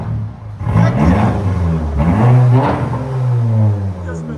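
A 400 hp VW GTI with an aftermarket exhaust revs loudly up close, in two rising and falling pulls with a deep, droning exhaust note.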